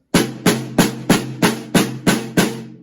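Eight crisp drum strokes played as paradiddles on a drum kit, close up at an even, steady pace, each ringing briefly before the next, with no talking.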